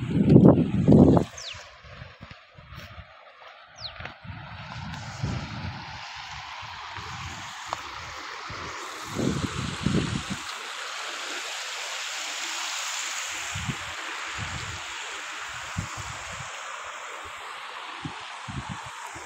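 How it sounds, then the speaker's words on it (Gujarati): River water rushes along its bed after light rain, a steady, continuous wash with a few louder bumps and rustles near the start. "જોયું ને મિત્ર કેવું મસ્ત મજાનું પાણી જાય છે"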